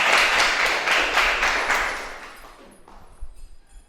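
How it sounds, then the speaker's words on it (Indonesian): A classroom of students clapping hands together in a burst of loud, rapid claps that fade out after about two seconds, leaving a quiet room with a few scattered thumps. "Tepuk tangan untuk kalian semuanya."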